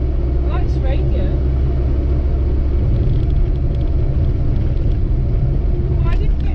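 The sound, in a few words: Austin Allegro car driving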